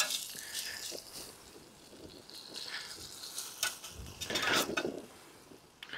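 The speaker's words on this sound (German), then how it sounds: "Hier noch wieder die Zwiebel so ein bisschen umdrehen." Onions with beer get turned in a frying pan for vegetarian smashed cheeseburgers: a close, soft sizzle with scattered scraping and clattering from the spatula, and a louder stretch of stirring near the end.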